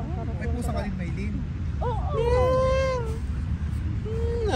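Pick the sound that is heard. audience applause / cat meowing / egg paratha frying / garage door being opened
cat meowing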